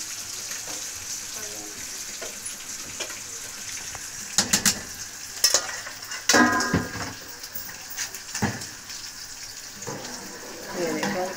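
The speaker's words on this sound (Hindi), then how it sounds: "चावल डालते हैं इसमें। राइस ये बासमती के, कच्ची बासमती के," Raw basmati rice poured into a pot and stirred, a low bubbling, frying hiss underneath with several sharp clatters and scraping knocks from utensils against the pot, close and uneven.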